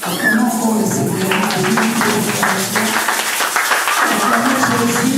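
Church congregation clapping steadily in rhythm with voices raised in acclamation and singing throughout, a continuous dense crowd sound.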